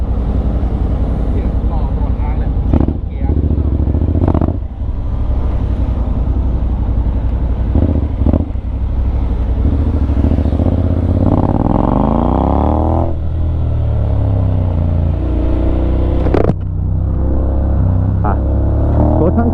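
A Honda X-ADV 750 motorcycle in sport mode growls steadily while riding through evening traffic, with the engine note climbing and falling through several revs, loud and close throughout.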